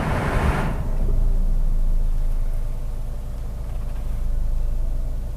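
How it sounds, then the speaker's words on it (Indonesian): A 2023 Suzuki Ertiga Smart Hybrid idles as heard from inside the cabin, a steady low rumble and hum after a brief burst of broadband noise at the start, with no speech. "Kita akan lihat apakah terdengar nggak ya bunyi dari mesin, dari engine bay tadi"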